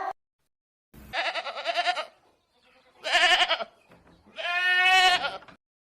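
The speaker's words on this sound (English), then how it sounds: "G for goat." Three separate goat bleats, each about a second long, wavering and nasal, with short pauses between them; close and fairly loud, no talking.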